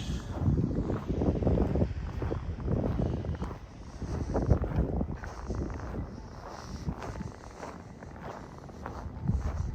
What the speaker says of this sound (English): With the wind in my face.